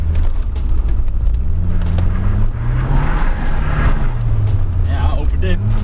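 Turbocharged car driving at speed, a loud continuous engine drone rising and falling in pitch as it revs and shifts, with road rumble underneath and a person talking over it.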